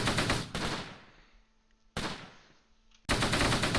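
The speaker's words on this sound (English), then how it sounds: "We're now taking fire from the foxholes, I guess." Bursts of machine-gun fire in the WWII strategy game Close Combat, set around Caen in Normandy, come from foxholes as three loud volleys, each trailing into a reverberant decay before the next.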